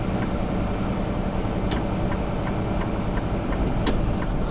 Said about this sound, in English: and this bus is getting ready to pull away